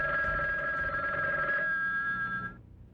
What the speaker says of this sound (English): And then the phones started ringing.